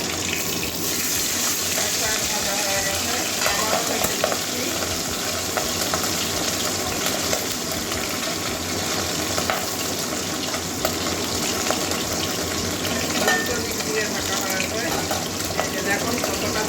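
Katla fish sizzling and frying in hot oil in a pan, a steady dense crackling hiss that continues without a break the whole time, close and loud.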